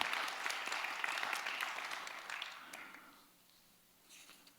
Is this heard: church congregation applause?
yes